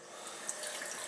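Lukewarm water running steadily from a tap into a test tube alien toy kit, a soft continuous hiss and splash heard alone and close.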